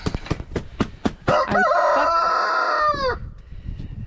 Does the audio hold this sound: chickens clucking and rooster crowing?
yes